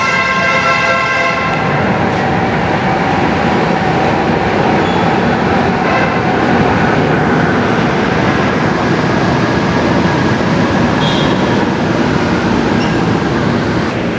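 An MRT metro train rumbles along continuously, a loud steady roar of wheels and motors from inside the carriage, with a brief tonal whine at the start.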